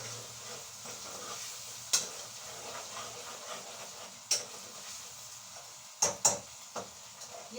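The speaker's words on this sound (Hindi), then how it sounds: "ये मसाला जल जाए ज़रा मसाला ये इनके सुर्ख हो जाए" Masala frying and browning in a pan for aloo bhujia, a steady close sizzle with occasional spoon clinks and stirring knocks scattered through, no talk.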